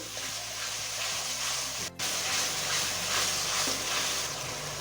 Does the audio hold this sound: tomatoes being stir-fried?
yes